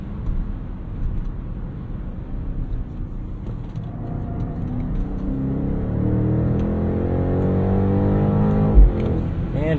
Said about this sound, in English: And it fires off gear changes, and this is a properly quick car.